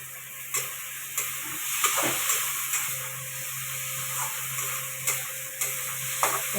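Ridge gourd frying in a pan with nigella seeds, a steady soft sizzle with light stirring clicks and scrapes recurring every second or so.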